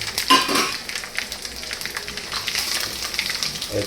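Curry leaves, garlic and kasuri methi crackle and sizzle in hot oil, a close, steady frying hiss with light stirring clinks throughout.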